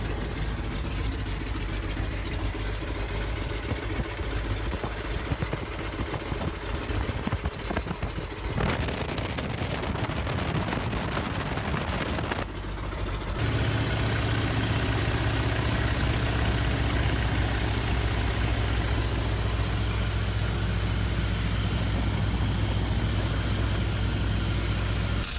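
A 1929 biplane's engine roars through its takeoff run, a steady droning rumble that briefly shifts in tone midway, then returns fuller and louder with a sustained low hum, no voices.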